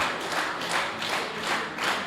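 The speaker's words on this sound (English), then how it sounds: "And listen to the crowd." A crowd at a powerlifting championship, the 2018 European Equipped Powerlifting Championships, applauds steadily, dense clapping at a loud, even level with faint swells throughout.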